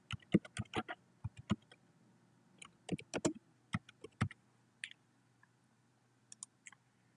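Sparse typing on a computer keyboard, with individual key clicks and short clustered bursts separated by pauses, faint and close in a quiet room, entering a class name into a form.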